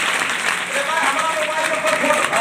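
Audience applause at a coaching centre gathering, a steady dense patter of clapping that carries on at an even level for the whole stretch, with no voices rising above it.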